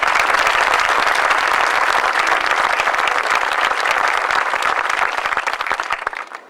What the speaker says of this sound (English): Can we all get a round of applause again for my grandma?